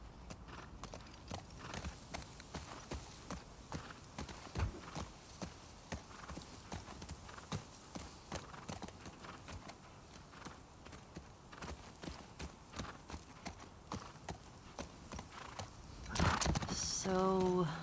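Horses walking in The Last of Us Part 2, hooves clip-clopping in a steady uneven rhythm throughout, close and moderately loud, with a brief louder burst of other game sound near the end.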